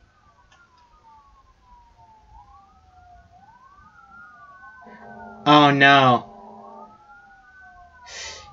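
A police siren wails faintly in the background outdoors, its tone rising and falling in slow sweeps, while a short spoken exclamation and other brief sounds come up close over it.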